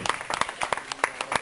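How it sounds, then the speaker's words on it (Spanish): A church congregation at a Sunday service claps, with a small group's sharp, distinct hand claps in a quick, uneven rhythm, close and moderately loud. "Y la Iglesia de Cristo envía un saludo y un aplauso para todos los que nos puedan ver"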